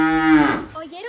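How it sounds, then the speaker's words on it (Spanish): A cow moos once, close and clear, a rich low call that bends downward and trails off within about a second. "Sí, es mi amiga la vaca."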